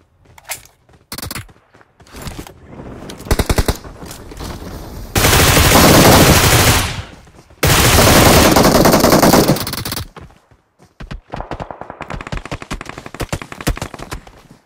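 Automatic gunfire in PUBG Mobile: loud rapid bursts and single shots, with two long sustained volleys in the middle and more staccato firing toward the end, with no talking.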